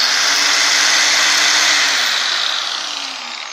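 A Makita GA5030R angle grinder, after about a year and a half of use and still running as well as new, runs free with a loud, steady high-pitched whine and motor hum, close by, easing slightly in level toward the end, with no talk.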